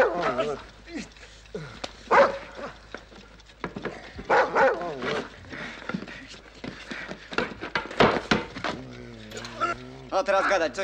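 Dogs bark, yip and whimper in an agitated scuffle, mixed among excited shouting voices of several people, the barks coming in irregular bursts close by.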